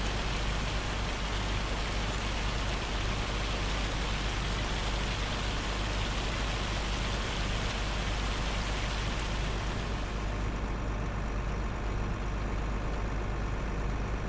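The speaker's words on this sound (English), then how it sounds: "Now it's raining." Steady rain falling in Farming Simulator 25 on the Lone Star Plains map, a dense continuous hiss with a low engine hum underneath, unchanging in loudness throughout.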